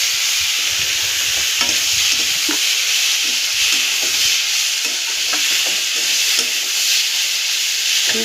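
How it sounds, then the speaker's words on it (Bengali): Sweet karonda pickle with a little chilli powder is stirred in a pan, giving a continuous loud sizzle and hiss broken by repeated soft scrapes and taps of the spoon. No voices are heard. "তো বন্ধুরা এবার একটু নাড়াচাড়া করে নিতে হবে।"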